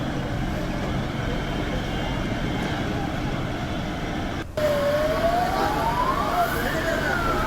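Fire brigade siren wailing at a market fire in Rohtak's D Park, where shoe and clothing shops burned; a rising tone sweeps up over a dense, steady crowd and traffic din, with a brief dropout midway.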